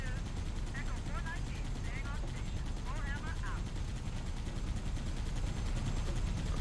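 Rapid, sustained gunfire from the mounted gun on a Warthog in the Halo video game, a dense continuous roar of shots with engine noise, loud throughout, with voices over it.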